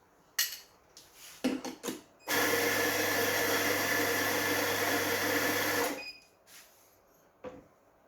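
A coffee grinder dosing ground espresso for a VBM Domobar Super Electronic machine whirs steadily for about four seconds, loud and close, with short clicks and clatter of handling the portafilter before and after.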